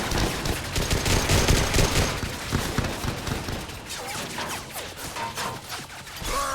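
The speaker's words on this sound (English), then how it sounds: "Let's throw a grenade." Dense gunfire and heavy blasts from a Mass Effect 3 firefight pour out in a loud, continuous barrage, rapid cracks layered over rumbling impacts.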